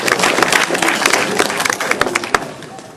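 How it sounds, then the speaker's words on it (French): An audience at a dance event applauds loudly and close by, a dense burst of clapping mixed with cheering and crowd noise that stays busy, with a few sharp individual claps standing out. "Donc on peut vraiment l'applaudir."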